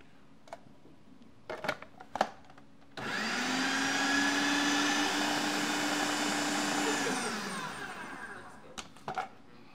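A blender whirs loudly for about five seconds while it blends avocados, with a steady motor drone that winds down. Faint clicks and kitchen handling noises come before and after it.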